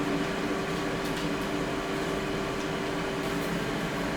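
Steady broadband whir of an air fryer cooking a striploin steak, a constant close hum with a faint low drone and no talking, unchanging for the whole stretch.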